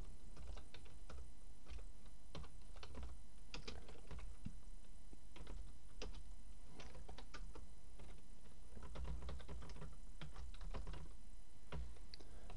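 Steady computer keyboard typing while code is being written, with dense irregular key clicks running throughout, close and moderately quiet.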